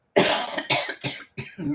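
Four harsh, close coughs in quick succession, each a sharp burst followed by a short pause.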